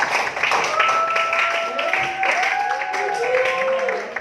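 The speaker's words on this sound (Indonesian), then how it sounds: "Tepuk tangan buat kalian semua" Students applaud in a classroom, a dense wash of clapping from a small group that carries on steadily under a teacher's voice and other talk.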